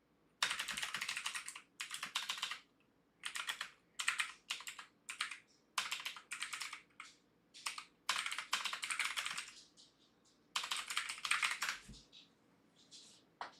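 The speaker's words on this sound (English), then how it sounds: "I'm just over here just like typing away." Loud computer keyboard typing in steady bursts of rapid keystrokes, with short pauses between runs, close up and alone without any talk.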